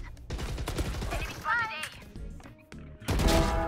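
Rapid bursts of gunfire shot through a wall in the tactical shooter Valorant, close and loud, mixed with other game effects and team voice chat.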